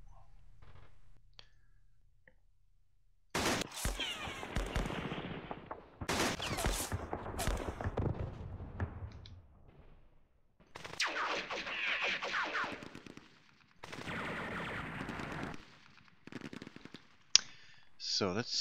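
Bursts of gunfire from the John Tiller Campaign Series Rising Sun wargame during Operation Shoestring, several loud volleys separated by short quiet gaps, with a sharp crack near the end.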